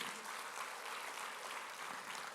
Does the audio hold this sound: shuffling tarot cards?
no